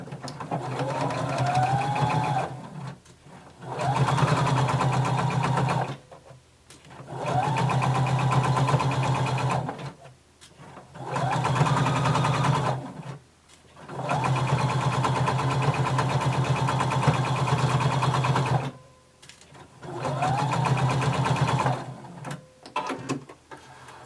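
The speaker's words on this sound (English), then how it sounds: "we're going to sew from dot to dot until we reach the end" A sewing machine stitches a garment seam from Simplicity pattern 1283, running in about six steady mechanical bursts separated by short pauses, close and clear with no talking.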